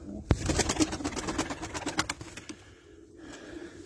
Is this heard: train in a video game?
no